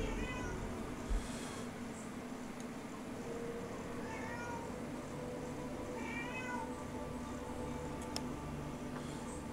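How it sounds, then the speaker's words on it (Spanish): A cat meows several times in short, rising calls spread through the clip, heard over a steady background hiss with no talking. "Efectivamente, había un gato."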